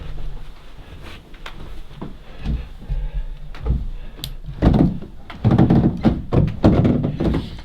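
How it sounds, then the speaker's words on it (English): Wooden stairs in an old house creak and thud under slow footsteps, irregular loud knocks and groans spaced through the stretch, getting busier and heavier toward the end, with no talking. "So you can hear how creaky these stairs are."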